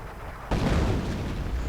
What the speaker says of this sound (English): Just a bit of artillery here.